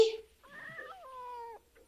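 A domestic cat meows in a drawn-out, wavering call lasting about a second, fairly close and clear, after a short burst of noise at the start; no talking over it.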